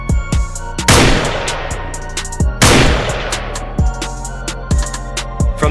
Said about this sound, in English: The sound of gunfire echoed, and one by one, the wild boars were destroyed.